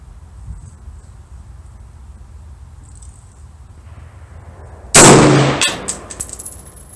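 One loud, sharp shot from a 6.5 Creedmoor AR-10 rifle loaded with Federal non-typical ammunition follows several seconds of quiet outdoor ambience, and a ringing metallic decay trails off afterward.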